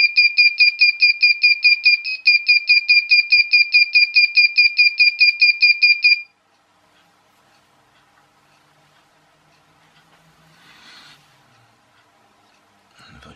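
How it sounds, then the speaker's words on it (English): Piercing electronic beeping from a digital clock kit's alarm, fast repeated tones running steadily for around six seconds before cutting off, followed by quiet room noise and faint rustling. "Second alarm coming up."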